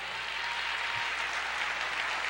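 Steady wash of church congregation applause filling the room in Pastor Lamartine Posella's service, continuous and even throughout with no break, dense clapping blended into a broad hiss.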